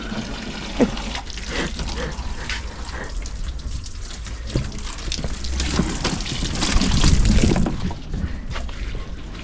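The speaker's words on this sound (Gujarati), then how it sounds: "આવ્યું પાણી ગાડી ધોઈ જોઉં" Water running from a hose for washing a car, a low continuous splashing and trickling close by with scattered knocks and clatter, swelling a little toward the end.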